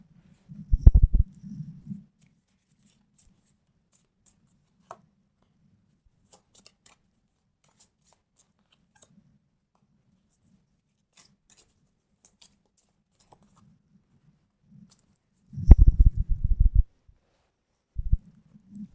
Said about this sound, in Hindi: अभी जस्ट मैं शफल करके एक एक कार्ड निकालते जा रही हूँ